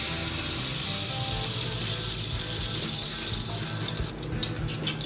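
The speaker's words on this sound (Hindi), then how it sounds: "हमने जो पतीले से चावल निकाल लिए हैं, ड्रेन आउट कर लिया है।" Water from boiled rice draining out of a cooking pot, a continuous loud rushing pour that splashes steadily, briefly thinning near the end, with no voices.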